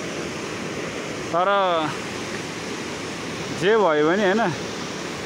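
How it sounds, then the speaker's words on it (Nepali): A waterfall near Pokhara pours in a steady, broad rushing roar that fills the whole stretch, with two short bursts of speech rising above it. "ए यो मुनिको पानी चाहिँ वाटरफल।"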